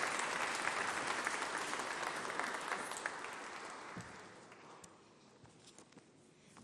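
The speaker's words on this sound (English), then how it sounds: "Would you please join me in extending a warm welcome to Joan as she takes the podium." Warm applause from a dinner audience welcoming a speaker to the podium, dense clapping at first that gradually thins and fades toward the end, with a few isolated claps and faint footsteps.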